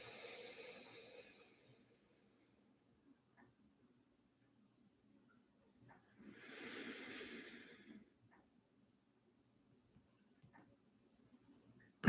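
Slow, deep breathing close up, a soft airy breath at the start and another long, gentle breath midway, separated by near silence with faint small rustles.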